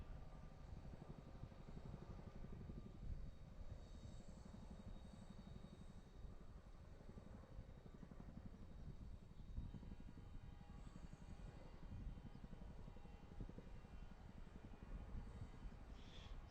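Military helicopters, Chinooks and Blackhawks, passing over a house near Harrisburg, a steady distant rotor drone and low rumble that holds at a faint, even level for the whole stretch.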